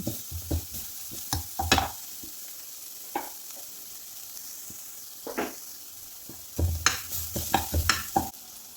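Grated coconut and cumin powder stirred in a hot pan for a palak and chana dal thoran, with intermittent scraping and clatter of the spoon over a soft, steady sizzle, close by.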